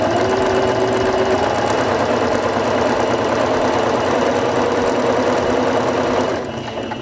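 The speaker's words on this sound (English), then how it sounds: "place your fabric underneath the presser foot, lower the presser foot lifter, and step on the foot control to begin sewing." A Singer Fashion Mate 5560 sewing machine runs a straight stitch, a loud steady mechanical whirr with fast rhythmic needle clatter that holds evenly, then slows and drops off near the end.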